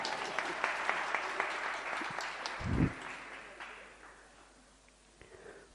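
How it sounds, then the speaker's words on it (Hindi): Applause from a crowd at a spiritual discourse in a temple hall, a fairly faint, steady patter of many hands fading over several seconds, with a brief low thump partway through. "आपकी तालियों से ज्ञात होता है कि आप सुन रहे हैं।"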